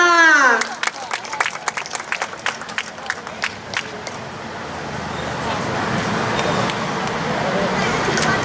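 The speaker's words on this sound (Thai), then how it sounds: "ขอเสียงปรบมือดังๆค่ะ" Audience applause and cheering at an outdoor Thai country-song singing contest at a Lotus mall, swelling into a steady wash of clapping from a crowd after a brief spoken introduction, with traffic noise mixed in.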